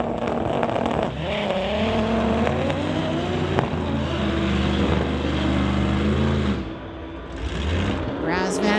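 A BMW and a 1996 VW Golf run a street-legal drag race at a Friday night event, engines roaring loud and rising through the gears, with a commentator talking over the noise.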